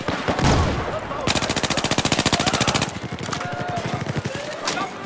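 An M60 machine gun fires in the shooter game Battlefield 4, a long rapid, evenly spaced burst of loud shots in mid-clip, with scattered battlefield noise before and after.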